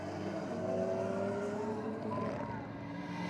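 Two drag race cars, a BMW and a Honda, run down a drag strip on a Honda-versus-haters theme night. Their engines make a steady, fairly distant roar under a commentator's voice.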